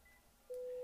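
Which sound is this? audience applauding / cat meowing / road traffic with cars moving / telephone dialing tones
telephone dialing tones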